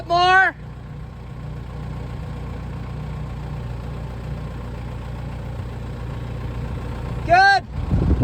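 A tractor with a Detroit diesel engine idles in the background, a steady low rumble under the whole stretch, while a voice speaks briefly at the start and near the end.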